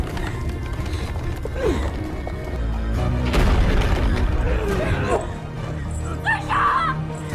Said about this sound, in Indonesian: aula itu seketika meledak